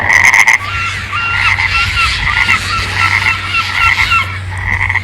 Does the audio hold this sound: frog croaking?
yes